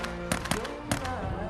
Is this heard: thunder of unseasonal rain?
no